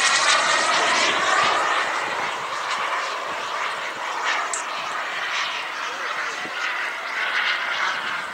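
A Dassault Rafale jet flying slowly past at a Fourth of July airshow gives a loud, continuous engine roar that stays steady and slightly fades, with no one speaking over it.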